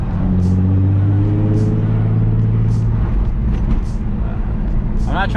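A turbocharged car fitted with a new stage 3 clutch and flywheel pulls in first gear, its engine droning steadily from inside the cabin while someone talks over it.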